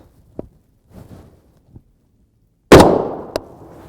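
Sharp, loud gunshot from a 7.62x39mm rifle with a 16-inch barrel firing 123-grain FMJ ammunition into gel, a single blast with a ringing decay, preceded by faint handling clicks and followed by a brief clank.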